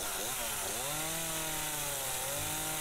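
A chainsaw engine runs steadily and loudly up close, its pitch dipping briefly and then rising back to a constant high drone.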